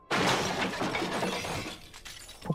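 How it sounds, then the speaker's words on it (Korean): A hallway flowerpot topples and shatters in one loud, close crash, with broken shards and soil scattering and trailing off over about two seconds. "복도에 있던 화분이 갑자기 엎어지면서 내 앞에 와장창 깨지며 쏟아져 버렸다."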